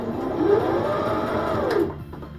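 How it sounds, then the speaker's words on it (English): A sewing machine runs steadily at close range, a fast humming stitch that whirs along for a couple of seconds before slowing and stopping. "Every single time I gotta turn the sewing machine on."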